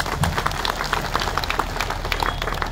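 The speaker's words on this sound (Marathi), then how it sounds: "जोरदार टाळ्या वाजवून स्वागत करा त्यांचं." A crowd claps steadily for a welcome at a political gathering, a dense patter of many hands with no break, fairly loud and close.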